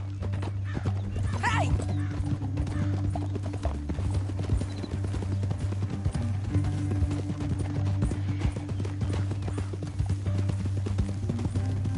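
Steady clip-clop of horse hooves at a gallop in Red Dead Redemption 2, close and continuous, with a horse whinnying once early over a low droning background.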